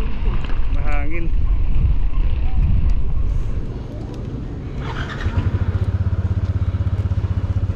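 Gusty wind buffets the microphone with a roaring rush during a motorcycle ride near a windmill site, over vehicle noise and brief talk, then a steady low engine drone takes over.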